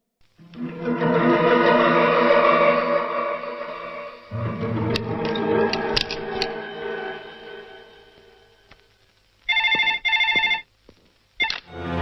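A telephone rings with an incoming call in a Hindi-dubbed South Indian action film, the ring bursts sounding near and loud in two short pulses toward the end after a stretch of dramatic music and rumbling effects.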